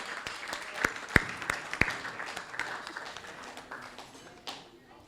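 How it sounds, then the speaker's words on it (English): Scattered applause at a wedding reception at the Ottawa Hunt & Golf Club, thin and uneven with a few sharp individual claps standing out and voices murmuring beneath. "Can we please give one more round of applause to the bride, groom, bridal party, friends, family members"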